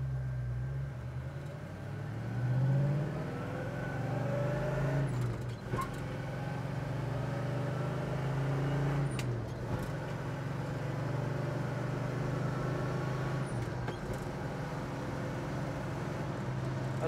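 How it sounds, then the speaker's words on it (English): A 1965 Pontiac GTO under way, its engine droning steadily inside the cabin with a low tone that rises through the gears, short shift breaks interrupting the pull, moderately loud and without talk. "Car has real good acceleration to it."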